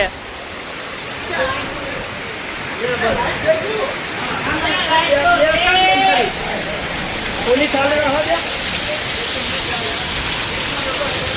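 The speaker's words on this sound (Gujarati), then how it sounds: "વરસાદ કેવો પડે" Steady rain hisses throughout, with people speaking intermittently over it.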